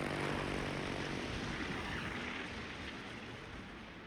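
Torpedo bomber planes in World of Warships: a steady propeller-engine drone with a hissing wash, quiet and fading slightly as it goes, with no talking.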